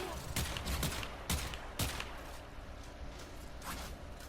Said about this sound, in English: let's use Shooting Gallery.